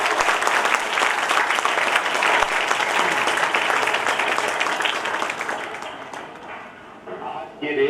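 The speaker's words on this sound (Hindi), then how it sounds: "बहुत जोर से तालियां।" Loud audience applause at a Railway Ministry skill-development scheme event, dense steady clapping for about six seconds that thins and dips before a brief final swell.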